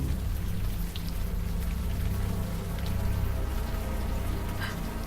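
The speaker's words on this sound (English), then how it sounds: "the warm rain is coming down" Warm rain pouring steadily in the game Unavowed, a continuous even hiss of falling drops over a low droning hum, with no voices.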